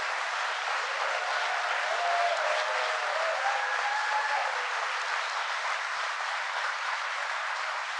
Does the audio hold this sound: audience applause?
yes